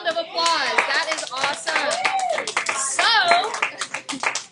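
Classmates in an algebra classroom clap for a student, a short burst of scattered hand claps mixed with children's chatter and excited voices.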